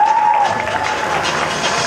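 Sustained applause from a seated audience at an alumni gathering, steady dense clapping with some crowd noise and a faint tone running through.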